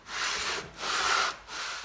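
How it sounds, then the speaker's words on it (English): Sandpaper laid on glass scrapes back and forth under an aluminum cylinder head being resurfaced, three long rasping strokes separated by short pauses, close and steady with no talking. "we need to keep sanding until all of those are gone"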